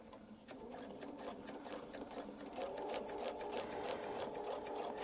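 A sewing machine runs a quarter-inch seam on a Baptist fan quilt, a quiet, steady, rapid needle chatter with regular ticking stitches that grows a little louder partway through.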